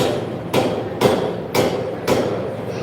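Four sharp, loud metal strikes of a hammer on a chisel cutting sheet metal, evenly spaced about half a second apart, each with a brief ringing decay over steady workshop background noise.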